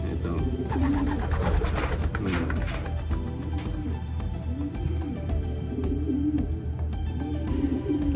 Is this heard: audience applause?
no